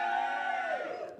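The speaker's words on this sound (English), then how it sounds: "this half of the crowd give me a cheer" Half of a stand-up comedy audience cheers and whoops together, a loud, sustained crowd roar lasting about a second before trailing off.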